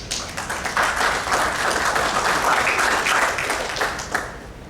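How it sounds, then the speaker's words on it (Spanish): An audience applauds a speaker at a formal public event, a dense, steady burst of many hands clapping close and loud, fading out after a few seconds. "Recibimos con fuertes aplausos."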